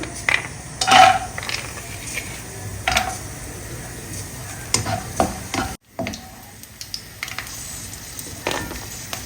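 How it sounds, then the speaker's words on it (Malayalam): Cashew nuts fry in hot coconut oil with a soft, steady sizzle, broken by occasional utensil clinks and scrapes against the pan, heard up close with a brief silent gap midway. "അപ്പോൾ നമുക്ക് ആദ്യം അണ്ടിപ്പരിപ്പ് വറുക്കാം"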